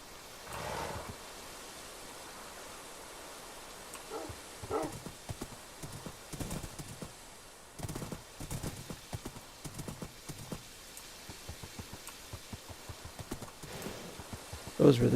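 Horses clip-clopping, a steady run of hoof strikes repeating at a moderate, even pace and carrying at medium distance, with faint vocal murmurs mixed in.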